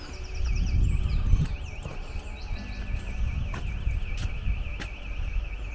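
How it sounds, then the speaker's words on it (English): A distant alarm warbles faintly in a steady, repeating up-and-down pattern outside St Dunstan's church in Cranbrook, sitting above low rumbling background noise and a few soft knocks. "there's an alarm going off in the distance somewhere."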